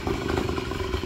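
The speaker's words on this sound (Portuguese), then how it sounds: "Aqui é 80 cilindrada do Bruno" An 80cc engine on a motorized bicycle runs steadily up close, its rough buzzing putter with a light mechanical clatter holding an even rhythm throughout the short stretch.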